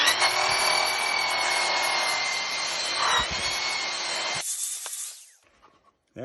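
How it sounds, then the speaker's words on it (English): A flap sander made of many small sandpaper strips cleaning reclaimed wood, a loud, steady high-pitched whine with a rough abrasive grind that cuts off, leaving near silence and a few faint clicks. "Now we'll use the flapper sander, which is a whole bunch of little pieces of sandpaper"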